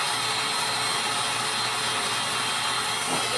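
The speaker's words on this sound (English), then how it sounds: "And I'm going to blow into that." Steady breathy rush of air blown across melted encaustic wax on a painting surface, a constant close hiss filling the whole moment without pause, no voices.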